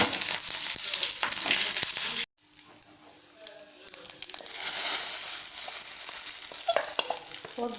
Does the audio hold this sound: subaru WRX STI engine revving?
no